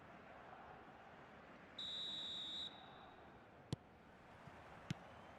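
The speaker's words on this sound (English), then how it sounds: "There's the whistle, and here we go." A referee's whistle blows once, a steady sustained tone of about a second, to kick off a football match in the PES video game, followed by a couple of sharp short clicks against a continuous crowd roar.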